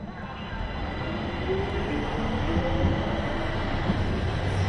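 A subway train in a video game rumbles steadily with a constant low roar and faint metallic squeals, heard from near the tracks for several seconds without fading.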